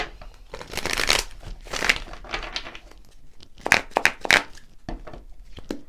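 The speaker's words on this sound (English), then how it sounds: "One more shuffle." Tarot cards being shuffled close by, with a few bursts of crisp riffling and card-slapping textures spread across the stretch, quiet gaps between them and no talk over it.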